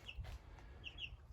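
Cornish Cross meat chickens about three and a half weeks old, clucking and calling inside their shed, with a few short high cries standing out over a low rumbling background.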